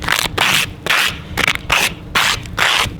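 Plastic card scraping ice off a car windshield in repeated rough strokes, about seven short harsh scrapes in an uneven rhythm, close and fairly loud.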